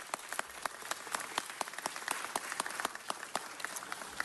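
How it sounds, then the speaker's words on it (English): Audience applause at a Los Angeles city ceremony honoring a Public Works Bureau of Engineering employee: dense, even clapping with sharp individual claps standing out, fairly faint and continuous throughout. "How about a big round of applause for Cesar Medrano?"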